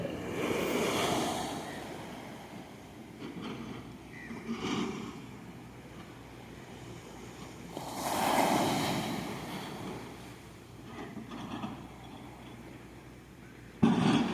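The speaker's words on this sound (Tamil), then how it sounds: "கொஞ்ச நேரம் அமைதியாகவே நம்ம இந்த கடலை ரசிக்கலாம் வாங்க" Sea waves at Sanguthurai beach in Kanyakumari wash ashore in a steady rolling roar, with louder surges near the start, around eight seconds and at the very end, over a constant wind-blown hiss and no talking.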